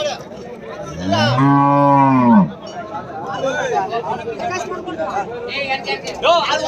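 A dairy cow at a cattle market moos loudly once, a long drawn-out low call, with people chattering in the background throughout.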